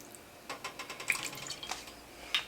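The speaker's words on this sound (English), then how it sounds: "A couple of splashes of balsamic vinegar." Splashes of balsamic vinegar poured into a pan of pork steak gravy, a faint string of soft drips and small liquid spatters over a quiet background.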